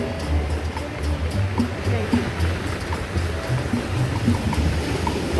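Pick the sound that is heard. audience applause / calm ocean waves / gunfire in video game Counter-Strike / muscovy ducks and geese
calm ocean waves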